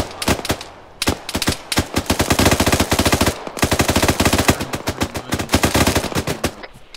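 Sustained gunfire in an Arma firefight, loud and close, with rapid automatic bursts rattling almost without pause across the whole stretch and only a brief gap near the start.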